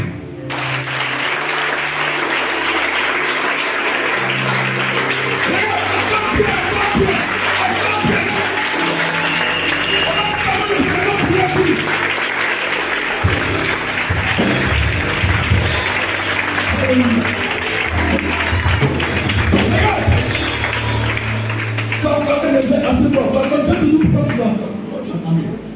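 A church congregation claps steadily and acclaims the Lord, a dense, sustained roar of applause and voices with a speaker talking over it throughout.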